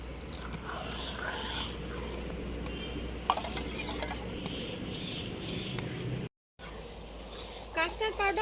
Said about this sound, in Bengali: কাস্টার্ড পাউডার দেওয়ার সঙ্গে সঙ্গেই কিন্তু কন্টিনিউ নাড়তে হবে, না হলে নিচটা লেগে যেতে পারে